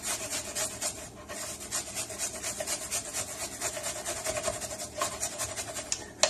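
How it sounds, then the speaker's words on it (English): An ingredient for garlic aioli is grated by hand, producing quick, steady, close rasping strokes that continue evenly for several seconds at moderate loudness, with no speech. "I just want to grate off a little bit of it."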